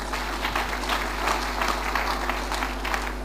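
Churchgoers in a testimony service clap their hands together, producing a steady, dense wash of applause over a persistent low hum.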